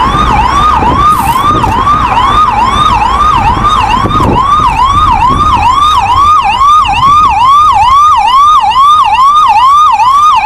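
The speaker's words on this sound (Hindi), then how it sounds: "इसलिए एम्बुलेंस तेजी से एयरपोर्ट की तरफ भाग रही है।" Very loud, close ambulance siren wailing in fast rising and falling cycles, repeating steadily throughout as the vehicle speeds toward an airport, with road noise underneath.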